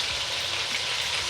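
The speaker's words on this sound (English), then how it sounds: "And then we're going to add onions that are cut into rounds," Onion rounds dropped in with chicken thighs frying in a pan, giving a dense, loud and steady sizzle close up with no voice over it.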